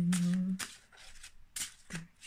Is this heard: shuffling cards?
yes